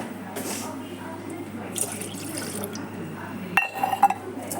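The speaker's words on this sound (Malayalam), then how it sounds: "ഗ്ലാസ് വെള്ളം കൂടെ ഒഴിച്ച് നമ്മൾ പാല് കാച്ചാൻ പോവേണം" Half a glass of water poured into a pan for boiling milk in a home kitchen, a soft liquid fill at first, then a sharper splash and drips against the metal near the end, close by.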